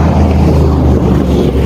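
A loud vehicle muffler rumbling close by, a deep continuous low drone with rough, throbbing texture, steady and heavy throughout the short stretch with no talk over it.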